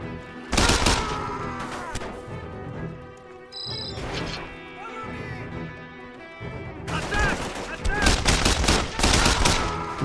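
Gunfire in the video game Mercenaries 2: World in Flames comes as several loud, sharp bursts of shots separated by short gaps, with a heavy final barrage over a steady musical hum and occasional voices.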